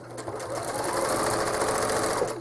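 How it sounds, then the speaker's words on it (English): A home sewing machine runs steadily while free-motion quilting feathers on a small cherry-bowl quilt, its close, even needle hum and rapid stitching rhythm going on without pause. "So I'm going to stitch my feathers"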